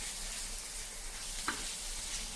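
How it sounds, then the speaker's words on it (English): Onions frying and being stirred with Kashmiri chili in a pan, a steady close hiss of sizzling oil with a brief scrape of stirring partway through, no voices. "Mixing together, keep frying until it gets softened"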